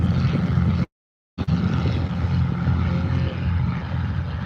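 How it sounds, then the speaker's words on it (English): A Yak-12 tow plane passing by at a gliding airfield during the junior world gliding championships. Its propeller engine drones loud and steady, with a brief dropout near the start. "Yak just went by, Yak 12."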